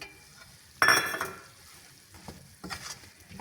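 Flour is dry-roasted and stirred in a pan while making a celery dish: one loud, close scraping rustle near the start, then softer, sparse scrapes and taps.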